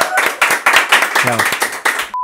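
On a Spanish-language talk show, a studio audience claps for Dr. Anthony Choy: a short burst of loud, rhythmic hand claps at a quick, even pace, close and bright, ending abruptly with a steady tone.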